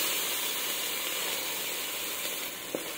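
Tomatoes frying with onions in a pan for fish curry, a steady loud hiss and sizzle throughout with a small clink near the end, no talk.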